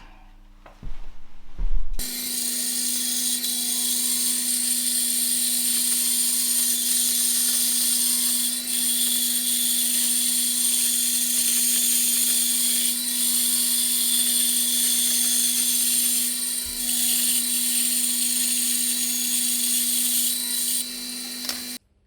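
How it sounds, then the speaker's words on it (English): A bandsaw rough-cuts an ash axe handle blank for a Rinaldi Calabria axe: after a short clatter the blade runs with a steady, close, high-pitched whine that holds evenly for about twenty seconds and then stops. "maybe smarter to do the rough cut on this side on the bandsaw actually"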